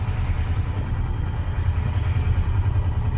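A sailboat's motor running during a crossing toward Corsica: a steady, low, droning engine hum at moderate level, even and unbroken throughout, with no voices over it.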